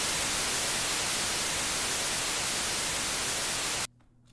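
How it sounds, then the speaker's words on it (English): A white noise riser for an epic trailer music track: a dense, loud hiss across the full range sustains steadily for nearly four seconds, then cuts off abruptly, leaving near silence. "So this is going to be my white noise riser."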